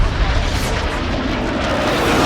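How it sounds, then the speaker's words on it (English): Explosions and air-strike rumble from a hostile strafe run in a first-person shooter video game, with dense continuous booming and roaring that stays loud and steady throughout, with no separate pauses. "Hostile strafe run inbound."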